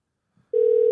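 A telephone call connects and a steady, loud ringback tone starts after a brief soft sound, holding evenly with no talking.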